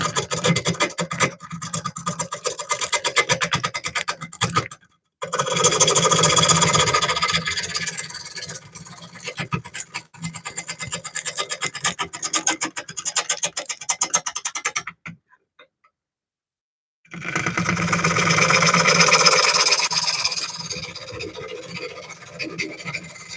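Gouge cutting an olive wood bowl on a lathe gives a steady, loud rasping scrape in long bursts, broken by a short pause near five seconds and a longer silence before the cut resumes.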